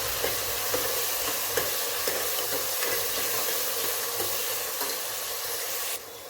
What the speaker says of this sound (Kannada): ಈಗ ಟೊಮೆಟೊ ಹಾಕ್ತಾಯಿದ್ದೀನಿ. ಇದೊಂದು 2 ಮಿನಿಟ್ಸ್ ಫ್ರೈ ಮಾಡ್ಕೊಂಡು